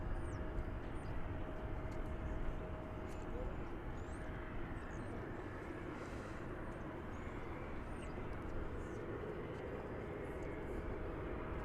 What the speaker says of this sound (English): that is American Flight 50 going to London